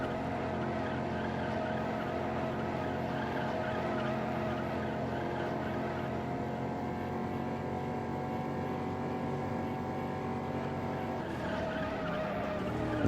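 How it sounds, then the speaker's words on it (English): Engine roar and skidding tires from the racing video game Juiced, a car spinning out under a steady, loud, continuous drone of race engines. "Okay, someone spun out there."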